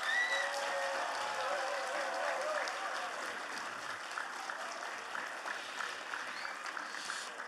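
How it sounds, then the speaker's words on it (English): Sustained applause from a crowd at an Easter Puja music program, a steady roar of many hands clapping that stays loud and even throughout and eases slightly toward the end, with faint voices underneath. "can I get everybody to just give me your best applause right now?"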